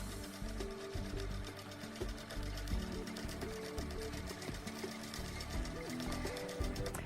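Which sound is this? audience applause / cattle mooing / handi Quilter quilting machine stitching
handi Quilter quilting machine stitching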